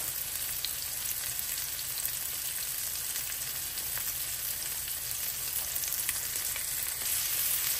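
Chicken pieces browning in a hot pan, a continuous bright sizzle and crackle of frying fat with occasional pops, steady and close, no voices.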